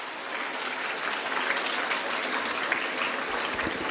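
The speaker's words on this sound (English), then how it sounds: "Let's give them a warm round of applause for joining us." A live audience at a school day dance event applauds the show's judges with steady, dense clapping that holds at an even level throughout, with no talking over it.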